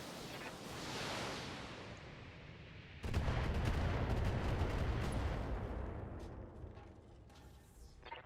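Mech weapons fire on a Cataphract in BattleTech: a rolling wash of noise, then at about three seconds a loud burst of heavy cannon and missile impacts rumbles on, thinning toward the end.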